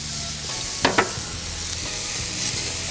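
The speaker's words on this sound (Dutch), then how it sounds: "De ananas, die hoor je ook meteen mooi sissen." Pineapple sizzles on a hot Ofyr grill plate, a bright, continuous hiss and crackle close by, with a couple of sharper spits near the start and no talking.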